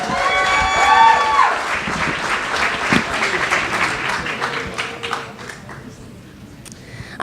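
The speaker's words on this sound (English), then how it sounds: "Give them a round of applause." Audience clapping at a live astronomy comedy show, steady applause that swells early, then gradually thins and fades to a few last claps.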